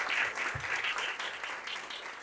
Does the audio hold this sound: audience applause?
yes